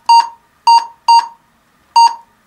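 Four short electronic beeps sound at an uneven rhythm, sharp and clear, with silence between them.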